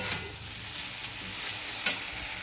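Food fries in a pan with a constant close hiss of hot oil, broken by a couple of brief scraping stirs; no talking.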